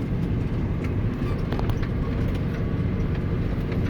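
A tractor ploughing a soybean field at about 7 km/h sends out a steady, loud, dense engine and implement rumble with no breaks, and no voices can be heard.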